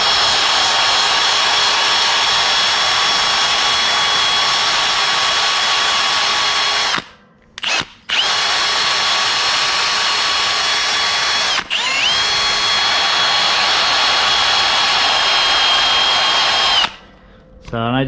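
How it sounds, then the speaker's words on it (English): A power tool fitted with a sanding disc whines at a loud, steady high pitch while cleaning steel tubes on a car chassis build, cutting out briefly a few times and spinning back up, close and continuous. "I'll get like a little sanding disc out and start cleaning all these up."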